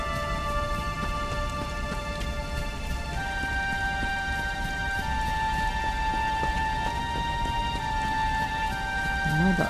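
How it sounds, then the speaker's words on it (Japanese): Rain falls steadily in the Dragon Quest XI video game, a constant soft patter under sustained background music tones and clopping hoofbeats, while someone talks over it. "雨が降ってきましたね。"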